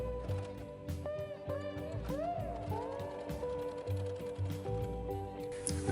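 A sewing machine stitching across the straps of a Tusken Raider bandolier, running in a steady mechanical rhythm with repeated needle ticks and short squeaky tones, close and fairly quiet.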